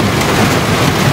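A heavy seasonal downpour pours down, a loud, steady, close roar of rain that is unbroken across the short moment, with no voices.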